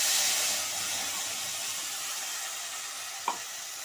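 Spices with a dried chilli frying in hot rapeseed oil for a katla fish curry make a constant hiss that is strongest at the start, broken once by a single sharp tap near the end.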